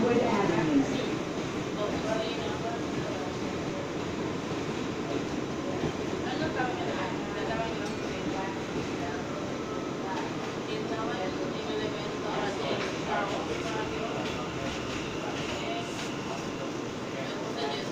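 An R179 J local subway train rides along late at night, a steady loud rumble of wheels and car noise filling the whole stretch, with an onboard announcement voice heard over it.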